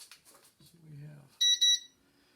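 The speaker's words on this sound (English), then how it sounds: "that beep just told us already that it's going to work" Two short, bright electronic beeps from a 1,500-watt RedStone electric heater ring out close by after some brief talk and a low hum, followed by quiet.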